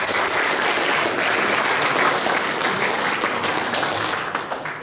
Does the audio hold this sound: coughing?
no